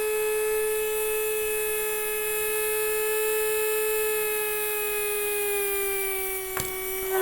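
A small DC motor runs under Arduino and L298N driver control, giving a steady whine with a strong tone and harmonics that slowly drift lower, close and continuous, with a brief knock near the end.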